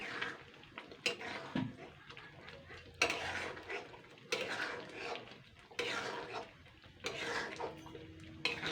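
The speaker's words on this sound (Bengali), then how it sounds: "এইবারে কষাতে হবে ভালো করে" A fish oil curry, made from fish fat for a Bengali chorchori, is stirred in a pan, giving repeated close scraping bursts of spatula against metal in an uneven rhythm, with a faint sizzle beneath and no talk.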